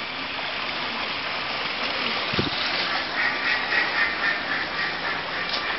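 Ducks and geese call at the Philadelphia Zoo, with faint quacking rising partway through over a constant rush of flowing water.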